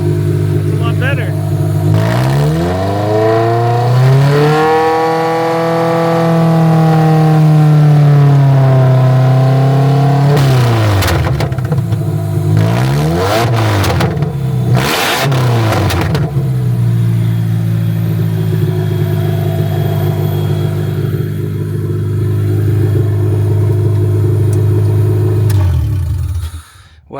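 A car engine runs after an injector replacement, idling roughly and then revving up and back down in several swells, loud and close, with a voice talking over it.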